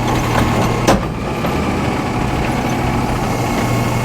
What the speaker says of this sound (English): Look at that claw, it's gonna close on it and then lift it right up.